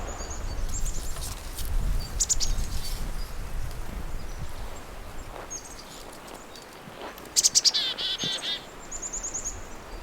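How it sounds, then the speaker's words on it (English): Boreal chickadee calls in a black spruce bog at Sax-Zim Bog in February, with thin, high chirps and a brief buzzy call sequence heard at moderate distance over soft rustling and a low background rumble. "Boreal chickadees are real homebodies. They rarely ever leave the security of a black spruce bog"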